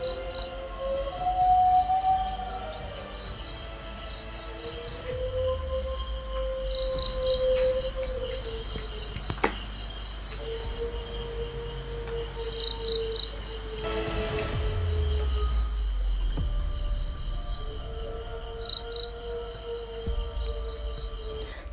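Crickets chirp steadily at night in a dense, continuous high trill, with a few other insect or bird calls rising and falling beneath it and no talking.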